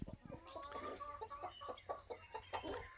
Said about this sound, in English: Blue Orphan trying to chase a rooster and Junior gonna get, I mean a hen